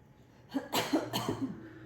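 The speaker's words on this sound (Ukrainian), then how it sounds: "І просимо пацієнта, пацієнтку покашляти." Two or three short, close coughs from a patient in quick succession, with a throaty, breathy edge and quiet pauses between them.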